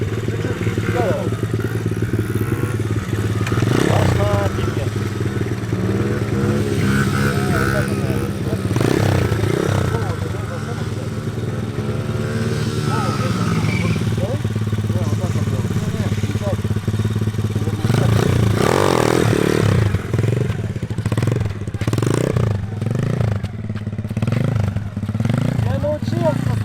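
A stunt motorcycle engine runs steadily at mid pitch while the rider clicks into first gear and eases forward, with someone talking over it throughout.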